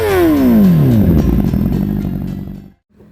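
Honda PCX 160 scooter-style motorcycle engine pulling away with a rising then falling whine, loud and close, followed by a short drop to near silence at the end.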